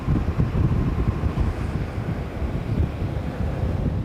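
Strong wind buffets the microphone in a continuous low roar at Brean Beach at high tide, with the hiss of incoming surf blending underneath and no voices.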